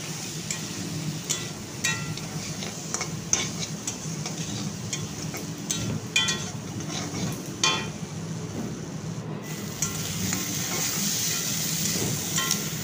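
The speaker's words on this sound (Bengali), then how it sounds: "আলুগুলোকে আমি 2 মিনিট সময় ধরে খুব ভালো করে ভেজে নেব" Potatoes fry in hot oil with cumin and dried chilli, a steady close sizzle with a soft hiss and occasional light clinks and scrapes of a stirring spoon.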